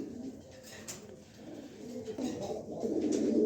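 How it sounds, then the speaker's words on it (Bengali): A pair of racing pigeons coo softly and close by, low throaty calls repeating over a quiet background. "দেখেন কবুতর জোড়া দেখেন"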